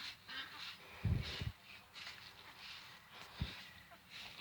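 Ducks on a farm, faint scattered quacks and honking calls at a distance over a soft outdoor background.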